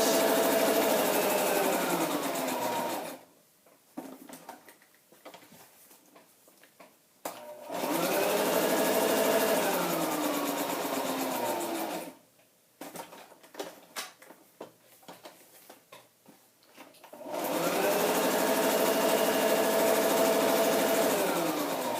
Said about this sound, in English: I think I'm just going to keep doing my straight stitch